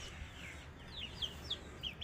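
Chickens kept on a rooftop coop make faint, scattered clucks and short calls, about five soft calls rising over a steady low background hum, with no talking.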